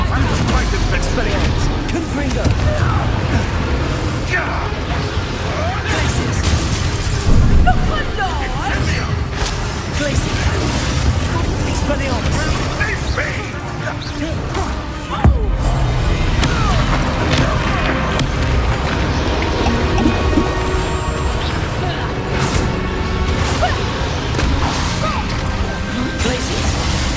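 Explosive spell blasts in Hogwarts Legacy: repeated crashing booms and whooshes in a busy, loud combat soundscape, with a voice speaking over the action.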